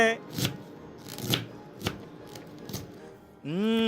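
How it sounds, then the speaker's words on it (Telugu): A knife chops cabbage into small pieces on a board in a kitchen, landing four or five separate sharp, crisp thuds at an uneven pace, close and clear, before a voice begins speaking at the end. "క్యాబేజ్ని హ్యాపీగా చిన్న చిన్న పీసులు ఏ డైరెక్షన్లో కావాలంటే ఆ డైరెక్షన్లో బుట్ట బుట్టగా కోసేసుకోవడమే"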